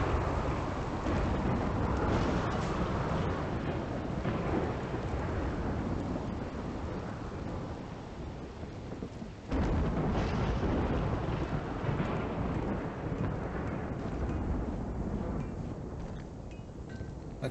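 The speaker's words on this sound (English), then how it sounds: "Like the thunderstorm we have raging outside." A heavy thunderstorm rages outside with a steady roar of rain and wind, low rumbling thunder throughout and a sharper crack midway, loud and continuous.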